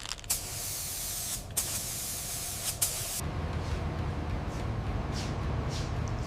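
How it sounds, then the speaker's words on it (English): A spray gun lays clear coat on a 1985 Mercedes-Benz 280 GE G-Wagon in a steady, close hiss, broken by a few short pauses early on before running continuously. "Clear coat flowing perfectly."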